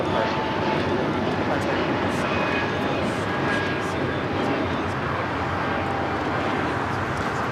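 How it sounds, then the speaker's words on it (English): An Air Canada Airbus A220-300 takes off from runway 25 right at LAX, a steady broadband engine roar that holds loud and even throughout, with a voice talking over it. "First of two Air Canada flights now taking off at 25 right. Airbus A220-300 up first."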